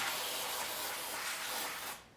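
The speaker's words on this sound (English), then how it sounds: "I like the spray cleaner, the spray brake cleaner, because it tends to blast a lot of the crap off fairly quickly" Brake cleaner sprayed from an aerosol can onto metal parts being prepared for rust bluing, a steady close hiss that runs without a break for about two seconds before cutting off abruptly.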